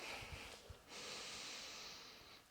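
A slow, soft exhalation through the nose during a guided breathing exercise for tightening the abdomen, a faint airy breath lasting a couple of seconds with a brief louder puff at the end, no talking.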